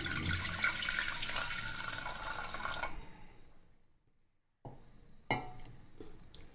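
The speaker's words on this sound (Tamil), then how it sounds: "பால் எடுத்து வச்ச பாலில் ஒரு பாதி அளவுக்கு விட்டுக்கலாம்" Milk poured into a pressure cooker on a stove while making ada pradhaman, a steady liquid splashing and trickling that fades out, followed by a few short clatters close by.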